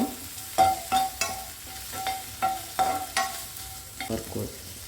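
Idli pieces fry with oregano while a spatula stirs them in a pan, producing repeated scraping strokes at a steady rhythm over a low, constant sizzle.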